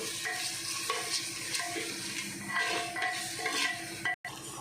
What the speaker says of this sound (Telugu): ఇప్పుడైతే దీంట్లో మనము సాల్ట్ యాడ్ చేస్తున్నామండి అదేవిధంగా పసుపు కూడా యాడ్ చేస్తున్నాము దీన్ని కలుపుకుందాం ఇప్పుడు